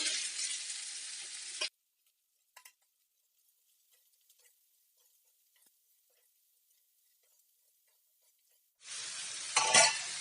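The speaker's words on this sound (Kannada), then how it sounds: "ಪಡವಲಕಾಯಿನ ಎಣ್ಣೆಯಲ್ಲಿ 1-2 ನಿಮಿಷ ಫ್ರೈ ಮಾಡ್ಕೊಳ್ಳಿ." Snake gourd frying in hot oil for a padavalakayi sabji with green chillies, a loud steady sizzle at the start that cuts off into near silence with a few faint clicks, then returns strongly near the end.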